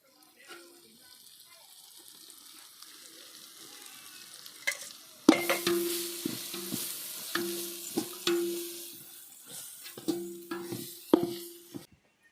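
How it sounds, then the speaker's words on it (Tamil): Tomato, onion and masala sautéing in hot oil in a home kitchen, with soft sizzling under repeated spoon stirs and scrapes that come in clusters, fairly close and moderate in level. "மசாலாவில் சேர்த்து நல்லா எண்ணெயில் வதங்கிருச்சு"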